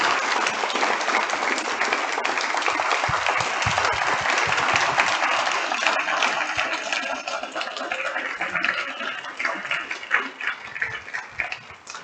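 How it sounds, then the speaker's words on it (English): A large room audience at a history lunch lecture applauds a speaker, steady dense clapping for several seconds that gradually thins and turns more scattered toward the end. "Let's give Dr. MacArthur Cotton another round of applause."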